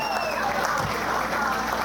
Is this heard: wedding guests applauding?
yes